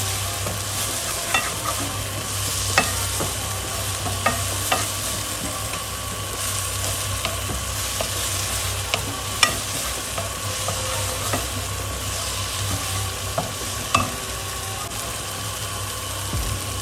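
Onions, garlic and seasonings for chakalaka sauté in a pan, giving a continuous close sizzle with occasional light clicks of stirring, no voices.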